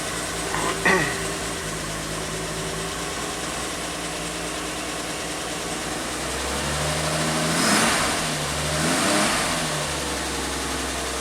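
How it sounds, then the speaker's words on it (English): A 1967 Triumph GT6 engine cranks and catches, then settles into a steady idle with a couple of throttle blips swelling louder near the end, heard alone and close. "Ignition. I love it. It just fires right up."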